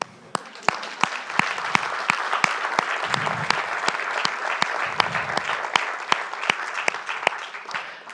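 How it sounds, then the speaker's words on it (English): Steady, sustained applause from the audience at an EU-JAMRAI annual meeting, a dense even wash of many hands with a few sharper individual claps standing out, continuing for several seconds with little talk. "I propose you applaud yourself"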